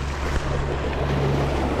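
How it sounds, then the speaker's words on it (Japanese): Waves slapping against a small fishing boat on the Kyu-Edogawa river during daytime sea bass fishing, a steady close rush of water and wind noise with a low engine-like hum underneath, no talking. "あー来た、波が。"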